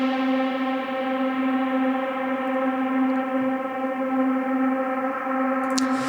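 A synth pad built from a stock reverb plugin holds one loud, steady tone rich in stacked harmonics, drawn out evenly with no attack or rhythm and only a faint click near the end.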